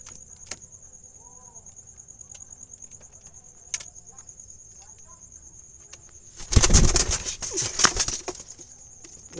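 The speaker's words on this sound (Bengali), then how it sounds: "অনেক কবুতর আছে" Jalali pigeons kept in a loft: a quiet backdrop with faint insect chirping and soft rustles, then a sudden loud burst of wing flapping that flutters for a couple of seconds before settling.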